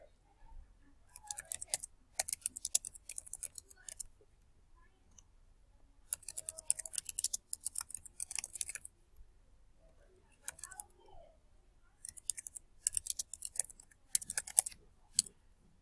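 Answers are tapped out on a computer keyboard in three bursts of quick, crisp clicks separated by short pauses, close and fairly quiet.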